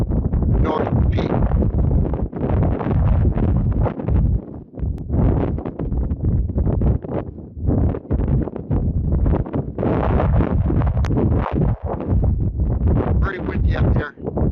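Strong wind roars across a mountain ridge, loud and continuous with gusty surges and heavy buffeting on the microphone throughout.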